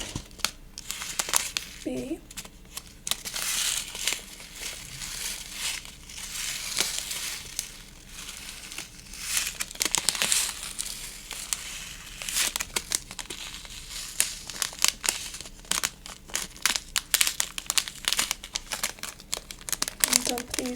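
Paper being torn and crumpled by hand while a snowflake is made, with soft repeated rips and crinkles in irregular bursts close to the microphone, under quiet soft-spoken talk.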